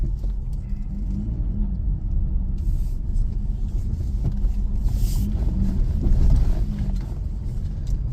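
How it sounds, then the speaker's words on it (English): Truck waiting in traffic, a steady low engine rumble with passing road noise throughout, swelling slightly near the end, with no talking. "sorry, some traffic, truck waiting to get in, had to get out of its way"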